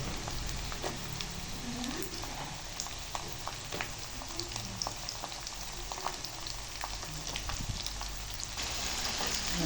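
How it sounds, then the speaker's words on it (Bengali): Potatoes fry in a pan with already browned onions, giving a constant close sizzle and crackle with scattered sharp pops and small stirring sounds throughout. "পেঁয়াজ ভেজে নিয়েছি, এবার আলুগুলি দিয়ে দেব। আলু একটু ভাজা হলে তারপর টমেটো দিব।"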